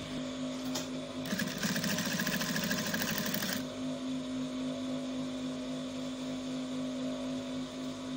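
A sewing machine stitches a kimono jacket seam in one short burst of rapid, whirring needle strokes lasting about two seconds, set against a quiet room hum.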